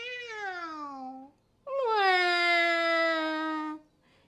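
A person imitates a cat with two drawn-out meows, the first falling in pitch, then a short pause and a longer, louder second call, close and clear.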